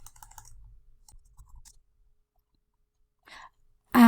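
A few soft, near key taps on a computer keyboard, brief and spaced out in a quiet room, with a longer silent gap before a sudden loud noise at the very end.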